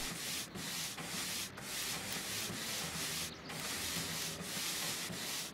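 Shoe polishing in a Back to the Future video game plays as faint, rhythmic brushing and rubbing strokes that repeat steadily with short pauses between them, with no voices over them.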